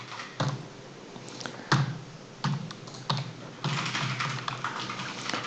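Keys on a computer keyboard clatter in quick bursts with short pauses as a matrix is entered into a code editor, close and steady with no one speaking.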